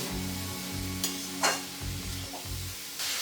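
Green peas being sautéed in a pan for chicken stew, a soft sizzle broken by a few spatula scrapes and stirring knocks, quiet and close.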